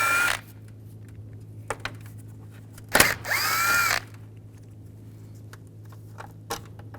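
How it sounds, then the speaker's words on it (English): A power tool with a 10mm socket whirs in short bursts to back out two bolts on a 2013-16 Nissan Sentra radiator job. The main burst is brief and sharp against a quiet hum, with faint clicks between. "Then we'll take these two bolts out,"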